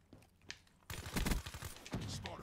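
Rapid gunfire in the video game Black Ops 3, a sudden burst of loud automatic shots after a quiet lead-in with a single earlier crack, then scattered follow-up shots.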